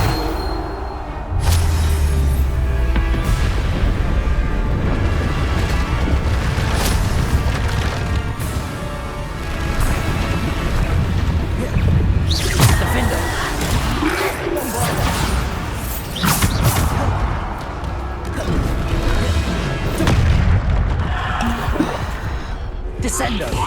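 Repeated Bombarda explosion spells in Hogwarts Legacy during a trial: a series of loud blasts with splintering, crashing debris and whooshes, mixed with other spell effects and occasional spoken voices throughout.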